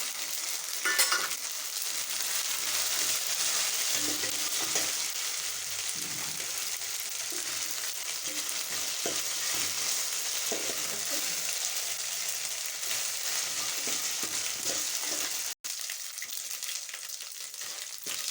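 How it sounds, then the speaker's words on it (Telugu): Ginger garlic paste fries with onions in a home kitchen pan, making a steady, dense sizzle that lasts throughout. Faint stirring is heard underneath, and nobody speaks. "అల్లం వెల్లుల్లి బాగా ఫ్రై అయిన తర్వాత"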